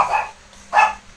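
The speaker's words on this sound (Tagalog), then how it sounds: "ang mga aso'y natahol." Dogs bark twice, two short yaps spaced well apart, moderately close in a quiet home setting.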